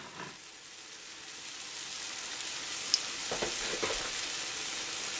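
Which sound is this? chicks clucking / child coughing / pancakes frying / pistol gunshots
pancakes frying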